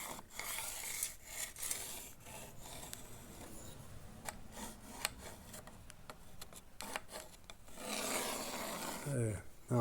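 A pencil scratches and rasps across salvaged chair wood in short strokes, marking a cutting line, quiet and close, with a few light taps in between.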